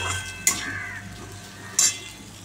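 Bitter gourd frying in a pan is stirred, with two brief scraping clinks of the utensil standing out over a low, steady sizzle.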